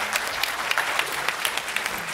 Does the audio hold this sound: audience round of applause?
yes